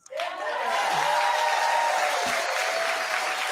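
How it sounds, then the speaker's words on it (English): A crowd audience breaks into clapping and cheering, a steady full wash of applause swelling in quickly and holding loud throughout. "They're all cheering and clapping."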